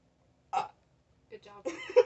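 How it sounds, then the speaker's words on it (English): A single short, abrupt burp sounds up close in a quiet room, followed a moment later by someone speaking. "I need a burp."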